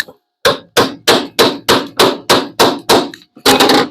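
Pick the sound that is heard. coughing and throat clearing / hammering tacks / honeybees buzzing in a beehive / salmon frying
hammering tacks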